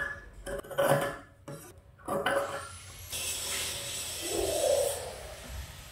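Scissors trimming extra fabric from a princess-cut blouse piece, a few crisp, close metallic snips with fabric rustle between them and no talking.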